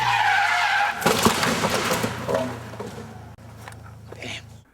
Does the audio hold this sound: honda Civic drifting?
yes